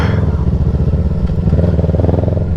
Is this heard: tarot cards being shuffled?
no